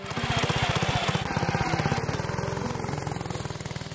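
A homemade off-road motorbike with a centrifugal clutch revs hard on a damp, grassy hillside on a cold, foggy morning. Its engine hammers in a loud, fast, steady pulse close by, with no voices.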